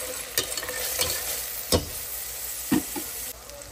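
Onions fry in a pan with turmeric and salt, a soft continuous sizzle broken by a few sharp scrapes and knocks of a spoon stirring, close and fairly quiet.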